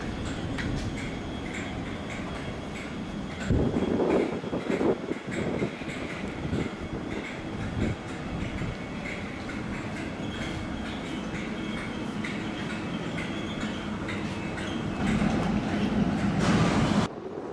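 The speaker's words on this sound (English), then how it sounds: "And this was our 10-car Class 444 train that took us in from London." A 10-car Southwestern Railway Class 444 train standing at Portsmouth Harbour station gives a steady, moderate mechanical hum, with a few clunks and rattles nearby and a swelling rise near the end.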